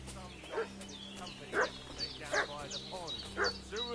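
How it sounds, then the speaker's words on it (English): A dog in the video game Kingdom Come Deliverance 2 barks in short, yelping bursts, four or five evenly spaced yips over a low steady hum, with a voice speaking in between. "What's that dog making such a fuss about?"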